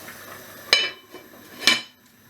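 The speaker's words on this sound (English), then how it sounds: "So I'm going to put the lid on." A metal lid is set on a pan of chilli con carne coming to the boil, giving two sharp, close clanks about a second apart over quiet kitchen background.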